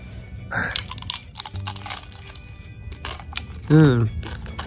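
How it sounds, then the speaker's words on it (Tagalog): Sharp crunches from someone biting into a crispy, slightly salty fried snack, a few close, dry cracks at irregular intervals while a person talks around them. "Pakinggan nyo kung gaano kalutong, oh."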